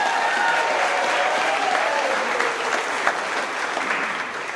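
Audience applause with some cheering at a trucking company's monthly employee celebration, a steady dense clapping wash from a sizeable crowd throughout, close and fairly loud.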